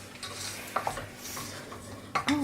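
Drained pancetta being stirred into cooked spaghetti in a pan off the heat, soft mixing with a few metal utensil clinks and knocks against the pan, close and fairly quiet.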